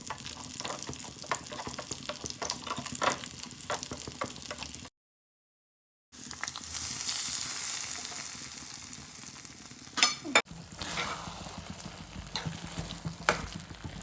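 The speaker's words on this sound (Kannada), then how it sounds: "ಈಗ ದ್ರಾಕ್ಷಿನೂ ಹಾಕ್ತೀನಿ, ಅದನ್ನು ಫ್ರೈ ಮಾಡ್ಕೋಬೇಕು." Cashews and raisins fry in a pan for sweet pongal, a steady crackling sizzle with stirring scrapes, cut by a brief silent gap and then resuming with a few sharper clinks.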